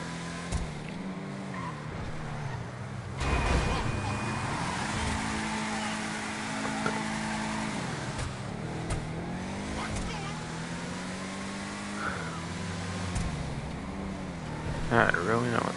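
A race car engine revving in GTA Online, a Hotring racer, droning loudly with rising and falling pitch as it accelerates and shifts, with a voice talking over it.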